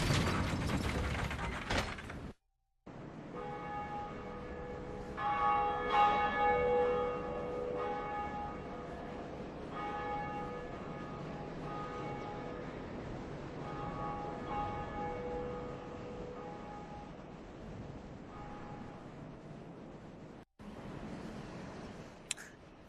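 Church bell rung in the video game Dark Souls at the Undead Parish: sustained metallic tolling with ringing overtones that swell and fade across the clip, mixed with mechanical clanking after a brief loud burst at the start.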